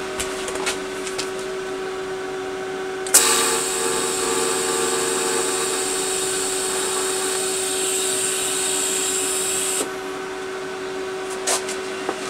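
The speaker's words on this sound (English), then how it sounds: "I'm just trying to get a tap on that and then we'll make sure it's fairly straight and then I'll weld the rest up." A welder runs a steady buzzing hiss for about seven seconds while joining metal on a broom, starting with a sharp strike and stopping abruptly, over a constant background hum.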